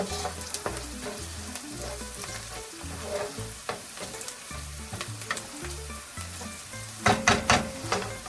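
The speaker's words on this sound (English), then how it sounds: "we're going to throw our pepper flakes in. Get that in there. Let that cook a little with the onions" Pepper flakes sizzling with onions in a hot pan, a steady close frying hiss throughout, with a few stirring clinks and scrapes near the end.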